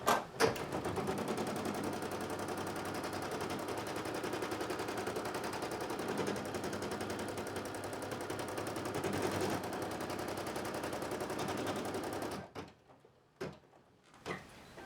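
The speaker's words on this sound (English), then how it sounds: "So now I'm going to do the tack down stitch for the first section" An embroidery machine runs a tack down stitch with a rapid, steady mechanical rattle. It continues for about twelve seconds, then stops, followed by a few scattered clicks and knocks.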